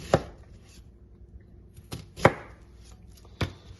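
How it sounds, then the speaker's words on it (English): A kitchen knife slicing food on a cutting board with a sliding stroke, four sharp, separate cuts at uneven intervals, close and clear with no talking. "you do that with sort of that part of the knife with a little bit of a sliding action. Cutting in one direction first."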